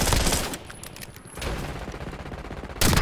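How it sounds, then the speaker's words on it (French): Gunfire in the video game Call of Duty Warzone, including a sniper shot, comes as dense, loud bursts of shooting with booming reports and a continuous rumbling din of battle. "un coup de sniper, ça fait jamais de mal"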